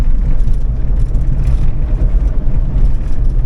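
A 2007 Hummer H2 with its 6.0L LQ4 engine drives along, a heavy continuous low rumble and road noise heard from inside the cabin, loud and steady without speech.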